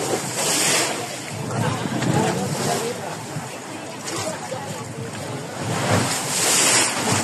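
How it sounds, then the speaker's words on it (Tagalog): Sea waves at Bolabog beach, Boracay, with loud surf washing in rolling surges amid heavy wind buffeting the microphone, close and continuous. "Ang ganda ng dagat guys."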